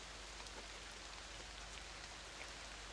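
Steady rain ambience for a tabletop role-playing scene of a man standing in a pouring downpour, a dense, even hiss of rain on surfaces that stays constant and fairly soft throughout, with no voices.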